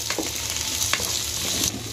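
Ginger and green chillies stirred and frying in hot oil for a dhaba-style egg korma, a steady close sizzle with soft scraping strokes of the spoon throughout.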